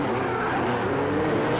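USAC midget race cars roar around an indoor track at the 1988 Indoor Series, a steady, loud blend of engines filling the space throughout the short stretch.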